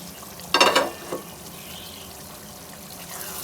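Tinda and gosht (gourd and meat) cook in a pan on medium heat as it is covered. A couple of sharp, loud sizzling bursts come up close, then settle into a quiet, low simmer.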